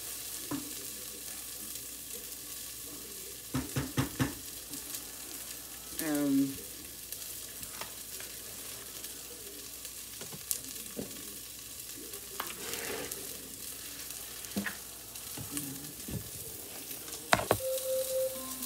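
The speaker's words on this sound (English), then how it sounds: "Sauteing this up a little bit." Steak sautés in a pan in a home kitchen, a continuous soft sizzle and crackle broken by occasional utensil clinks and stirring scrapes, close and moderately quiet.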